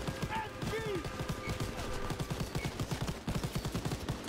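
Steady rapid bursts of automatic weapon fire crackle through a Call of Duty WW2 battle, moderately loud, with someone talking over the shooting.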